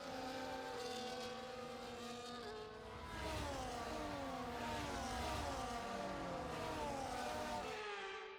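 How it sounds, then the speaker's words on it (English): Formula 1 cars in the F1 24 racing game roll through the formation lap, a dense chorus of engine whines rising and falling in pitch as several cars pass close by, loud and continuous with no talk. "the formation lap gets underway and the excitement here is building as we near ever closer to the start of the race"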